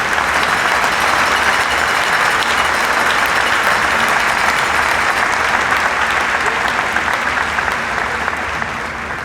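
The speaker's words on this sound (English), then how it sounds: "I appreciate your applause" Sustained, loud applause from a large graduation ceremony audience at Marian University, steady and continuous for the whole stretch with no talk over it.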